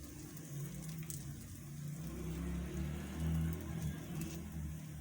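Egg paratha frying in oil on a hot pan, giving a steady, moderately faint crackling sizzle that swells slightly midway, with no voices.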